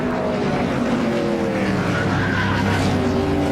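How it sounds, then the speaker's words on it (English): Loud NASCAR stock car engines roar and drone continuously with a rising, wavering pitch during a multi-car crash, cars sliding and spinning nearby. "More cars still spinning in this multiple car crash."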